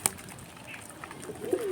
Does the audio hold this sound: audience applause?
no